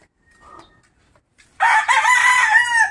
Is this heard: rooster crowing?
yes